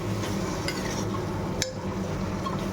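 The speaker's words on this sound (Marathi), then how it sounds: "हा भात आपण मिक्स करूया." Vegetable pulao rice is stirred in a pan, a continuous low scraping and sizzling texture with a faint clink of the spoon against the metal.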